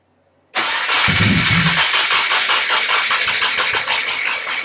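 An STi-engine-swapped Subaru WRX cranks and catches at once, then settles into a loud, close, steady idle with a rapid pulsing rumble and no talk.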